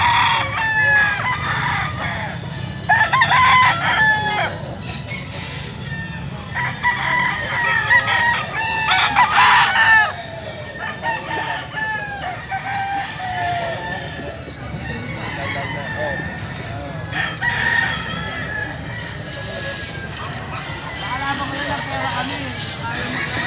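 Several roosters, including Kelso and Grotto gamefowl, crow repeatedly, some close and loud, others farther off, with clucking hens and people talking in the background.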